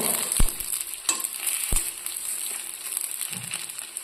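Muttakaryappam fry in oil with a steady bright sizzle as they are flipped to cook both sides, broken by a few sharp taps of a utensil against the pan and a soft low scrape near the end.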